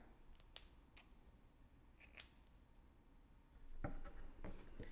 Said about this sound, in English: Grab your scissors and cut your yarn.